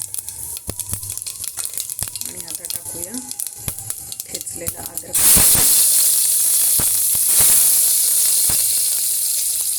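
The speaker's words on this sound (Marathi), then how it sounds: "तेल पण गरम झालेलं आहे जिरे देखील टाकत आहे" Cumin and mustard seeds hit hot oil with a sudden loud, steady sizzle that starts partway through and keeps going. Before it, quieter kitchen clatter and light knocks can be heard.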